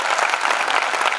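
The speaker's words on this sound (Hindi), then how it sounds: "अगर आप वाकई सुनना चाहते हैं तो एक बार तालियां बजा दें।" Dense, loud audience clapping at a Hindi poetry or stage performance, continuous and evenly sustained throughout with no voices over it.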